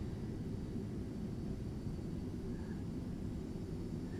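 Boeing 737-800 jet in the X-Plane 11 flight simulator on landing approach, giving a steady low engine rumble with a faint whine above it. The drone is constant and fairly quiet throughout.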